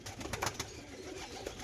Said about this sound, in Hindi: अब आप लोगों को मैं दिखा देता हूँ मेरा फार्म में कैसे वेट कर रहा है मेरा कबूतर